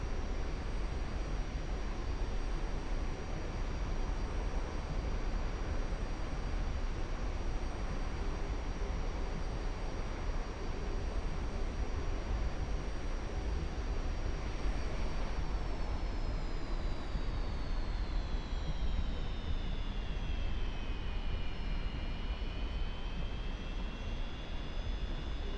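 An F-86 Sabre jet taxiing in the DCS flight simulator, with a steady loud engine roar and a high turbine whine that holds level and then sweeps down and back up late on, continuous and close.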